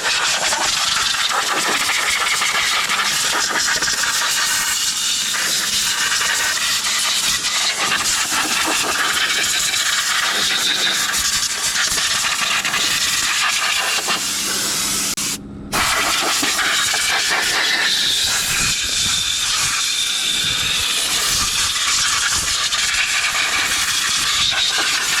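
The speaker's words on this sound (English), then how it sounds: "I'll bring the compressor around and the air nozzle, and I'll get it to blow out" A compressed air nozzle blasts continuously into a rusty rear brake drum, a loud steady broadband hiss with one brief cutoff partway through before the airflow resumes.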